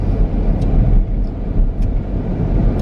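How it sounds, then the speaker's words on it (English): A Mercedes SUV rolls past on the road, a broad low rumble of engine and tires swelling and fading close by, with faint street noise and no talking. "and then this Mercedes drives by me"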